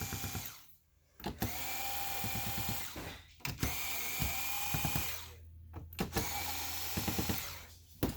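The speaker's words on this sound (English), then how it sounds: "now we're going to get these screws out" Screws being driven out of an Asus Chromebox 2 (CN62) with a power driver, several short whirring bursts separated by brief pauses, close and fairly loud with ratcheting clicks between runs.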